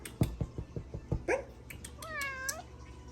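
A pet cat gives a clear, close meow with a rising and falling pitch, preceded by soft tapping and rustling in a quiet apartment.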